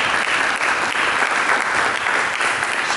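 Steady, dense applause from a church congregation during a sermon, loud and continuous throughout with no gaps or talk over it.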